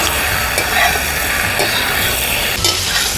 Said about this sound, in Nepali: यसलाई बेला बेलामा यसरी चलाउँदै पकाउनुपर्छ,